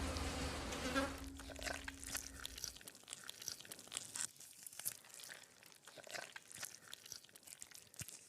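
A fly buzzes close by near a hungry Empusa praying mantis in a Spanish pinsapo fir forest, its drone cutting in and out with small crunching, chewing-like sounds.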